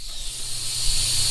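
An air hose blasts a steady, loud high-pitched hiss onto a cracked oil pan, one continuous close rush of air for about a second with a low hum underneath and no voices.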